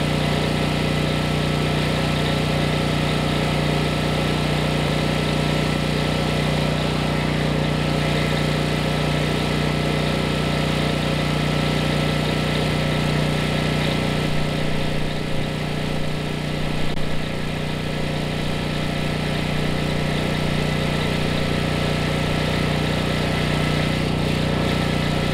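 A generator engine idles on a homestead during a power outage after a tropical storm, its exhaust angled off to one side. It gives a steady, unbroken mechanical drone with a low hum that runs the whole time, with no voices.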